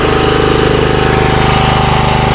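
A Honda GX390 petrol generator engine converted to run on gas chugs steadily at close range. The loud, even pulsing of its running engine carries through the whole clip with no talk over it.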